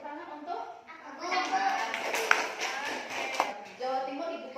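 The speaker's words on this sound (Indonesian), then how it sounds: "Ya, tepuk tangan untuk Aku." A classroom of children claps briefly for a classmate, a short burst of scattered hand claps mixed with taps and shuffling, with kids' voices chattering around it.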